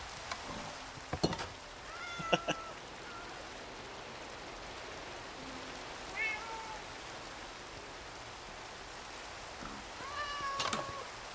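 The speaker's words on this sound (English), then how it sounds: "Oh, kitties." Cats in the Minecraft ATM9 Skyblock game meow several times in scattered, short calls over a soft, rain-like patter.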